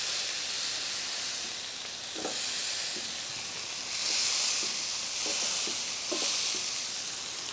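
A burger patty sizzles steadily on a hot griddle for a smash burger, a broad continuous hiss with a few soft scraping clicks as the back of a spatula presses down on it; no one speaks.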